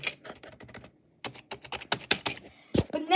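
Clattering keystrokes on an old computer keyboard, close and crisp, come in quick bursts with a brief pause, then resume more unevenly.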